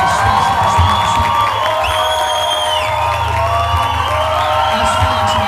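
A church congregation cheers, whoops and applauds loudly and continuously, with shouting voices layered over dense clapping and some sustained tones from the room's sound system.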